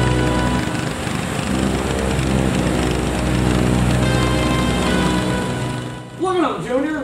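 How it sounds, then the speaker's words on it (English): Several lawn mowers run together in a loud, steady engine drone filling the whole stretch, with a brief voice-like sweep near the end. "Look at all those mowers out there."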